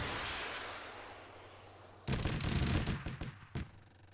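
Aircraft strafing gunfire in the military game ArmA 3, around a USS Liberty ship: a quiet hiss, then a sudden dense burst of rapid shots that rattles for about a second and a half and ends with one last sharp crack.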